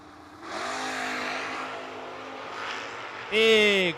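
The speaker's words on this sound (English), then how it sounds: "BDM got the MSR hot rod dialed 636. Going to take on Slick Rick Alford. Got the Mustang dialed 584." Drag racing hot rod and Mustang launching at a footbrake race, loud engines roaring with a sweeping, rising rev that surges again near the end, while an announcer talks over it.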